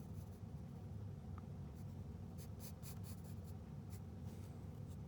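Faint scratching of a pencil on paper while sketching a cartoon character, a few soft strokes over a steady low background hum.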